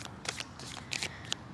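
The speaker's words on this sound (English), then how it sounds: "Probably gonna split this into 2 decks so it's easier to shuffle" Tarot cards split into two decks being shuffled, close and fairly quiet, with several quick riffling bursts of papery flicks and a sharp final snap, with no voices.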